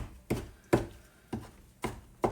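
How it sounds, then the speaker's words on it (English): A knife chops through fatty beef bacon on a cutting board in five heavy, evenly spaced thumps, each a close, forceful knock with quiet pauses between. "with beef bacon it takes a lot of force to get through the fat"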